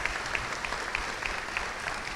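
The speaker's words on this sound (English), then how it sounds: "let's give them all a big round of applause" Applause from a stadium crowd at a celebration for a national champion cheer team and the Cardettes, fairly distant and even clapping with a few sharper claps standing out.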